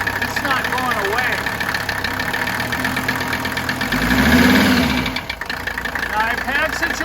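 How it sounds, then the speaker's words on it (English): Close diesel engine idling with a rough, rhythmic knocking clatter that swells briefly as it is revved off idle and then settles back; someone talks over it throughout. "that's just normal diesel clatter"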